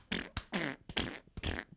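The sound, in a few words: mouth imitation of a fart sound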